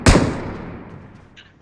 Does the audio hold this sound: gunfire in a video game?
yes